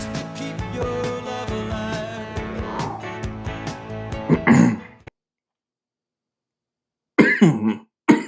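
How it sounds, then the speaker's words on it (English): A man coughs several times in a rough, harsh burst after taking a hit from a Yocan Vane 2 dry herb vaporizer, close to the microphone, then falls quiet before two shorter coughs follow. "Got a little cough there."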